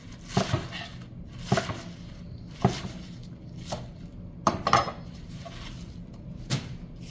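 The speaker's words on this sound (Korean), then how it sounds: "먼저 쪽파를 한줌씩 잡고 그냥 네, 썰어주세요." Scallions cut by the handful with a knife on a cutting board while preparing kimjang cabbage kimchi: sparse, sharp chopping thuds, a few single strokes and a quick double, spaced over a quiet kitchen.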